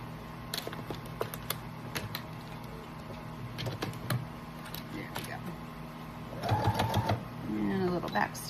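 A sewing machine stitches over a denim bag's belt loop in short bursts of rapid mechanical clatter, close and moderately loud, while a person talks over it.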